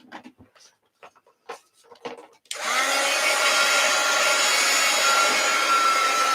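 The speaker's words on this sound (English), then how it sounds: "Let's get my heat gun out." After a couple of seconds of quiet rustling and small handling noises, a heat gun switches on and blows a loud, steady, close rushing whoosh that continues unbroken to the end.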